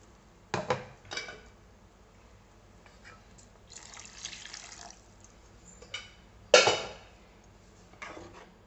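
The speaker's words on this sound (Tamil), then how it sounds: "தக்காளி வேக வைக்கும்போது ஊற்றின தண்ணியை வந்து இப்போ நம்ம இந்த இதில் சேர்த்துக்கலாம்" Tomato cooking water splashes and trickles into a metal pan of paneer masala in a few short bursts, with quiet clinks between pours, close and fairly soft.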